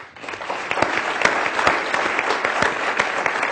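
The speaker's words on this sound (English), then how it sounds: "So I want to give artists and athletes a big round of applause." A lecture-hall audience gives a big round of applause for artists and athletes, loud, close, continuous clapping with individual claps standing out.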